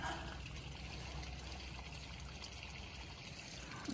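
Water trickling from a garden hose while watering green beans outdoors, a faint, steady splashing dribble with continuous low background noise.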